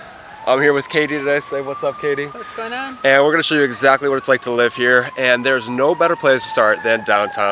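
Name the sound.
emergency vehicle siren in downtown Naperville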